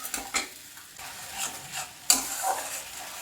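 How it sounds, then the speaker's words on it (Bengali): Grated tomato goes into a frying egg curry base in a pan, bringing quiet sizzling and a few stirring scrapes and clinks of a spoon against the pan, with no talking. "এবার দিয়ে দিচ্ছি গ্রেট করে রাখা টমেটো"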